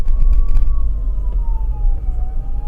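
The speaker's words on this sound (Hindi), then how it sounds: "एम्बुलेंस आ रही है, जब भी आप एम्बुलेंस को देखो ना प्लीज़ यार रास्ता दे दो।" An ambulance siren wails on the road, a loud, wavering tone that slowly drops in pitch as the vehicle passes, over low traffic rumble.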